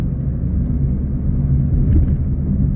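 A Ford Fiesta 1.6 Zetec petrol hatchback with Powershift automatic gearbox pulls away on a country road, its engine a low, steady rumble that swells slightly as it accelerates, with no talking.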